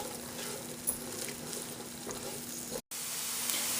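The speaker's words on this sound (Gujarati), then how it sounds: "હવે આ ડુંગળીને આપણે જરાક એને તરાવા દઈશું કે શું ફાઇન જરાક પોચી થઈ જાય." Chopped onions frying gently in oil in a pan for a Gujarati okra curry, a soft steady sizzle with occasional stirring clicks, heard alone with a brief dropout near the end.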